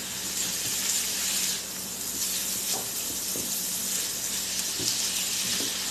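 Food for chicken fried rice fries in a pan, a soft continuous sizzle and hiss at moderate distance with occasional faint clinks, no voices.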